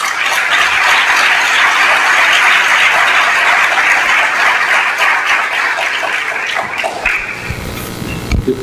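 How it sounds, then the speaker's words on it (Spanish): An audience at the Universidad Politécnica de Madrid gives sustained, loud applause to welcome guests at a forum. The dense clapping fills the room and thins out near the end. "vamos a darle la bienvenida con un aplauso"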